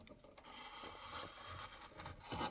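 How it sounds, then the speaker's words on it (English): A gouge carving along a knot in a basswood dowel, producing faint, close scraping and rubbing strokes as the blade rocks back and forth. "when you're working along that knot, you can just kind of rock your gouge back and forth."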